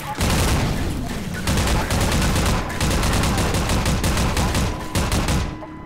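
A mounted machine gun fires in the Half-Life 2 MMod video game, a loud continuous rapid-fire rattle with heavy booming reports, briefly pausing a couple of times before cutting off.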